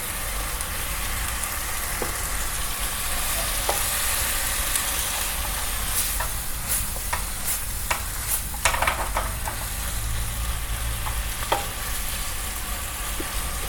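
Live eel pieces stir-fried Cantonese style in a hot pan give a steady, loud sizzle and crackle, with scattered scraping clicks of a utensil stirring throughout and no voices.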